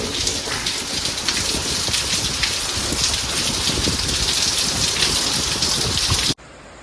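Heavy, steady rain pours down with a dense, loud rush that stays constant, then cuts off abruptly near the end.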